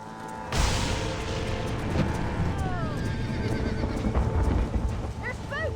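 Spooked horses in Red Dead Redemption whinny and neigh repeatedly over a loud, rumbling stampede of hooves, several rising cries overlapping throughout under game ambience.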